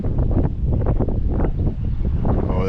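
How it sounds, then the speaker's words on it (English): Strong wind gusts buffet the microphone at a fishing spot by the water as the weather turns, a loud, uneven rumbling wash with rapid swells and no voices. "Oh, that wind is getting out of control."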